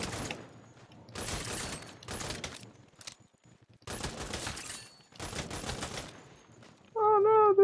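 Several bursts of rapid video-game gunfire at a Saints Row shooting range, separated by short pauses, each lasting about a second, followed by a brief tonal game sound at the end.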